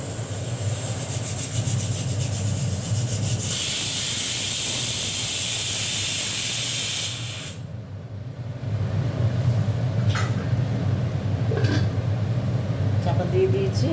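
Oil sizzles loudly and steadily in a covered pan where mourala fish cooks for bati chachori. The hiss dips briefly about halfway through, then keeps going under faint background sounds.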